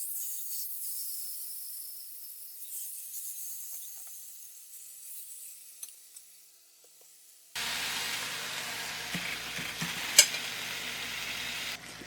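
Marinated chicken boti stirred in a wok: a quiet hiss at first, then a loud, steady sizzle of frying with scraping stirs and spatula knocks, close and continuous.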